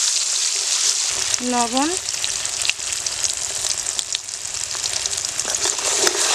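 A ground paste of nigella, ginger, cumin and chili fries in plenty of hot oil, giving a close, steady sizzle and crackle throughout, with a brief spoken word early on.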